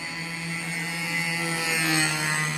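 A model aircraft engine on a missed landing approach holds a steady buzzing drone with a firm tonal whine that swells slightly in the middle before easing.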